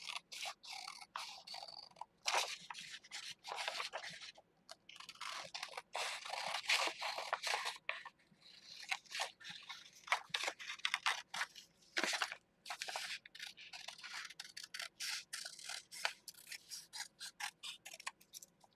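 Scissors cut out a craft foam shape in quiet, irregular crunching snips and scrapes, close by, with short pauses between cuts and no voices.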